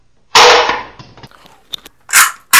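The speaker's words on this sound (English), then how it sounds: "Four colors, soft gun. Wow. Pink, this is pink color, soft bullet." Colorful toy soft gun shooting soft bullets: a sharp loud pop with a short rattling tail, a few faint clicks, then two more quick crisp shots close by.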